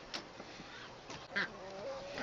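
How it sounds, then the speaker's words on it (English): Ducks squabble at close range in a backyard poultry pen at feeding time, with a few short honking quacks and scuffling calls breaking out among them over quiet outdoor background noise. "Guys, ducks, why are you fighting? Stop fighting, ducks."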